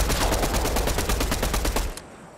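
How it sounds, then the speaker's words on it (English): Rapid automatic gunfire in a Fortnite trio match, a dense stream of close, loud shots for about two seconds that then stops abruptly, leaving quiet ambience. "Oh shoot, who's shooting this? Who's shooting?"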